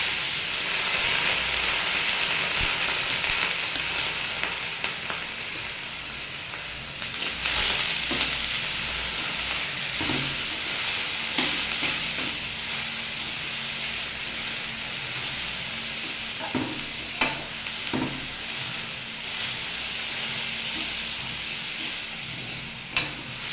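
Chopped beetroot and potato fry together in a pan with a steady, loud bright sizzle and hiss, broken now and then by stirring scrapes and clicks, with no one speaking.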